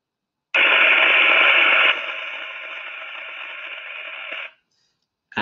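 Partial discharge picked up with an UltraTEV Plus 2 monitor, heard as a steady hissing crackle that starts abruptly, loud at first, then drops to a softer sustained buzz for a few seconds before cutting off.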